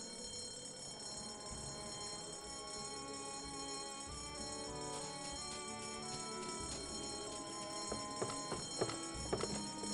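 A fire alarm bell rings continuously in the video game Escape From Monkey Island, a steady metallic clanging tone that holds throughout with a few sharper strikes toward the end.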